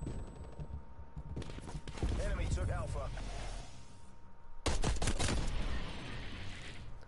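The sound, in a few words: gunfire from a gun in the video game Call of Duty Cold War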